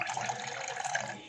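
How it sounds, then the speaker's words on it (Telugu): Water poured from a tap or bottle into a glass of restaurant-style lemon soda, a short steady splashing pour of about a second, close and fairly loud with no voices. "ఇక్కడ నేను కొంచెం వాటర్ యాడ్ చేస్తున్నాను"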